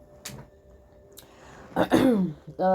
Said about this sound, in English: Y'all hear me clear my throat.